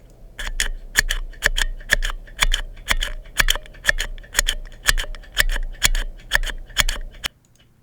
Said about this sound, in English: So we've got the Gatoron Black now.